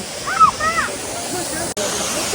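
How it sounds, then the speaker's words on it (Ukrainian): Water from the Zhenetskyi Huk waterfall in the Carpathians rushes and splashes in a steady, loud roar, with a crowd of visitors nearby and a voice talking over it. "А, ляпає вода."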